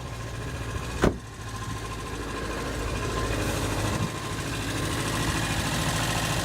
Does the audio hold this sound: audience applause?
no